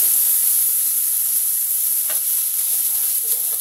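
Green chilies, onion, ginger and garlic cooking in a pan make a continuous close hiss and sizzle, steady and fairly loud, with a faint stirring clink partway through.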